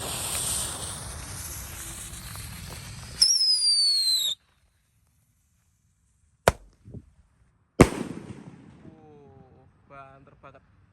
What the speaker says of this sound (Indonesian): Lanjut kita nyalakan pelontar mortar switch.